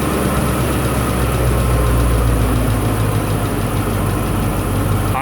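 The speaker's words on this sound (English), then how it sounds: "So it runs up to like 900 or 1000 RPM to warm up." An engine fitted with FiTech fuel injection holds a fast warm-up idle of around 900 to 1000 RPM, a loud, steady, even drone close by with no voices.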